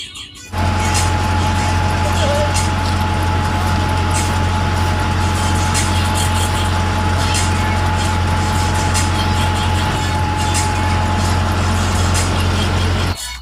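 A generator powering household coolers and fans runs with a loud, steady low hum and mechanical drone that starts abruptly and continues unbroken.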